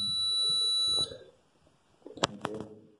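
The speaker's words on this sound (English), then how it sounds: "Stop the beeping." An electronic device gives a steady high-pitched tone for about a second, which then stops, followed by a couple of faint clicks and short bleeps in a quiet room.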